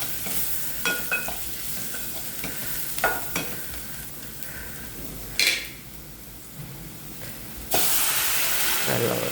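Chilli powder is sautéed in a pan for chutney, making a close, hissing sizzle with scattered stirring scrapes, sharp clinks of a spoon against the pan, and a louder burst of sizzle toward the end.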